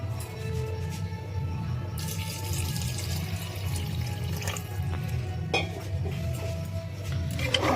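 Water pours into a pot of chicken stew, a steady continuous rush that holds close and fairly loud throughout, with a few light clinks of the pot near the end.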